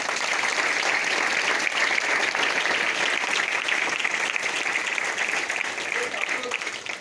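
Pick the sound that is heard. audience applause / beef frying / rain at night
audience applause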